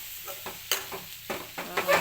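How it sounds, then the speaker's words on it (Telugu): Grated fresh coconut being stirred into a cooked side dish in a pan, with rhythmic scraping strokes of a spoon over a steady low sizzle, close and moderately loud. "పచ్చి కొబ్బరి తురం అండి మిక్స్ చేసేసి"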